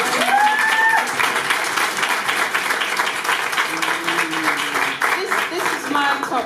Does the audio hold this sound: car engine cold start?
no